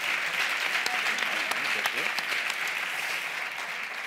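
Studio audience applause on a Catalan comedy talk show, a dense steady clatter of many hands clapping close by, with voices faintly mixed into the crowd noise.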